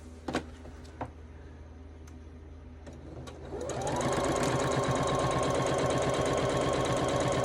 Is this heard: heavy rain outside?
no